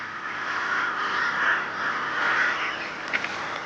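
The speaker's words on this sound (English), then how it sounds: "These crows are not about to stay and pick a fight." Several crows caw in the wild, a run of harsh overlapping calls at moderate distance, steady and unbroken, ending with a couple of sharper caws.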